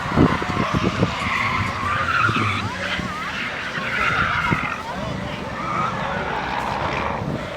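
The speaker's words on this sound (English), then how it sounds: "looks like we've got an Infiniti G37 drifting around with an E46." Infiniti G37 and BMW E46 drifting at a performance car show at Crail drag strip, with tyres skidding and squealing continuously over roaring engines and crowd noise, fairly loud throughout.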